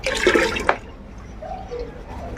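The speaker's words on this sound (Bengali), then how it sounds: "এই দবনটাকে আমি এর সাথে মিশিয়ে দেবো" Liquid plant fertilizer solution, eight litres of water and one litre of solution, being poured and mixed: a loud splashing gush for under a second, then quieter sloshing and trickling.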